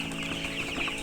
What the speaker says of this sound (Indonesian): Ini ayam broiler usia 15